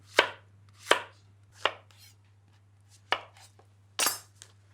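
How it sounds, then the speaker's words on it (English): A knife chops zucchini into rounds on a cutting board, five or six sharp, crisp cuts spaced irregularly about a second apart, close and clear over a low steady hum. "Zucchini. I'm just going to cut them into rounds."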